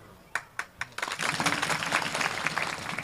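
An audience at a Marathi kirtan by Namdev Shastri applauds, starting with a few isolated claps that build into steady, fairly soft clapping from the crowd.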